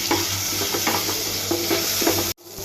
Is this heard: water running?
no